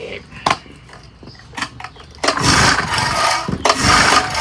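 A 1960s Temu outboard boat motor sputters through a few uneven pops and bursts, then catches and runs with a loud, rough buzz that briefly dips before picking up again.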